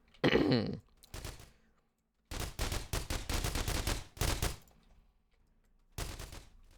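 Bursts of rapid weapon fire in The Walking Trade, a close, punchy gunfire sequence of quick shot trains separated by brief silences, with one short isolated burst near the end.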